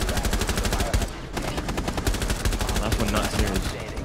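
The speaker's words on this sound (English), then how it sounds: "they're shooting at me a shit ton." Rapid automatic gunfire rattles through a Rainbow Six Siege match in a loud, dense, continuous stream of shots, with a short gap near the one-second mark before the volley resumes.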